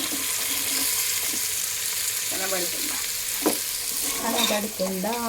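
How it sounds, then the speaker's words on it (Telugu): Pulihora, a tamarind rice dish, fries in a pan with a steady loud sizzle throughout, broken by occasional scraping stirs and a few higher squeaky tones near the end. "పులిహోర వేయించుకుంటున్నా."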